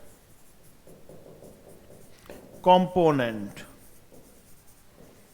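Marker or chalk writing on a board in a physics class covering motion in a plane: a faint, scratchy stroking sound heard mostly under a teacher's speaking voice.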